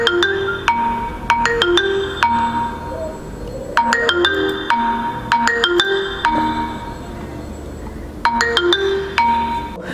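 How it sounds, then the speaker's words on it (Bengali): A smartphone rings remotely through a lost-phone tracking feature, playing a loud repeating melodic ringtone in bursts with short gaps between phrases. "এখানে আমি আমার ফোনটাতে কিন্তু রিং দিলাম, রিংটা কিন্তু বেজেছে"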